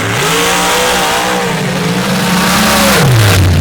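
Nitrous drag racing cars accelerate hard down the track at a racing event, a loud, close engine howl rising and falling in pitch as the car shifts, continuous throughout.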